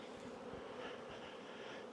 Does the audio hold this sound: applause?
no